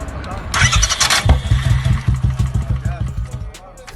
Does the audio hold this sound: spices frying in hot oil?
no